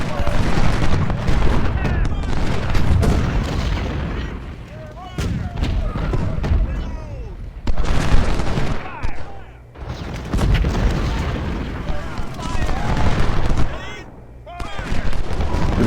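Booming artillery and crackling musket gunfire from a First Bull Run Civil War video game battle, with volleys and heavy blasts rolling in dense, overlapping bursts for the whole stretch and brief lulls between.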